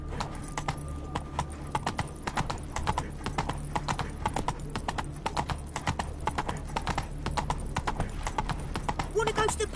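Galloping horse hooves from the Witcher 3 video game clatter in a steady, rapid rhythm throughout, close and continuous, with a faint steady hum beneath and a brief extra sound near the end.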